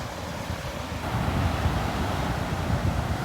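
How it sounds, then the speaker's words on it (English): Large ocean waves crash and wash at an overcast beach while strong wind buffets the microphone, a continuous roaring rush that swells slightly midway. "We don't see waves like this here very often."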